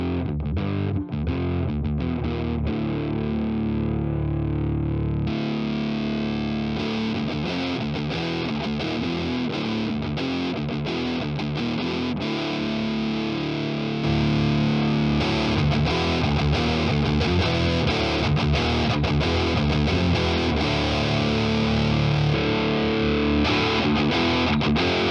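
Heavily distorted electric guitar through an Aurora DSP Rhino amp plugin, playing continuous chugging riffs with thick high-gain saturation, loud and close throughout with no talking.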